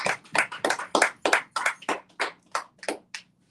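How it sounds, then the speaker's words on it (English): A small group claps in a brief, uneven run of about a dozen separate hand claps at a meeting, fairly quiet and fading slightly toward the end with no talking. "Let's clap it up for the meeting and probably start."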